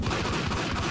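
Dense, rapid pistol gunfire from the 2001 video game Max Payne, loud overlapping shots packed tightly into one continuous burst.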